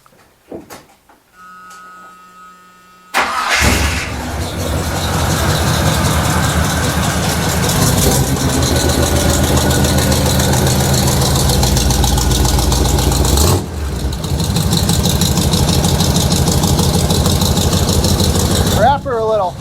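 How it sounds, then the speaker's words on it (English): A 1979 Chevrolet K20 squarebody truck engine cranks and catches after about three seconds, then settles into a loud, steady idle fitted with an air cleaner; a voice speaks briefly over the running engine. "we are gonna fire this thing up and take her for a little cruise"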